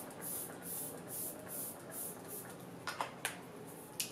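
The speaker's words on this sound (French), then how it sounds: "Je vais me mettre un petit coup de spray pour réhydrater mon visage." Marc Jacobs facial mist sprayed onto the face in a series of short rhythmic hissing puffs, about eight in steady succession, close and soft, followed by a few light clicks, with no talk.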